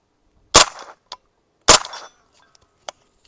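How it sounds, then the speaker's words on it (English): Rifle shots fired at rocks and a steel target outdoors: two sharp, loud reports about a second apart, each with a short decaying tail, followed by faint distant ticks and a small late impact. "I'm shooting rocks, and I'm hitting what I aim at"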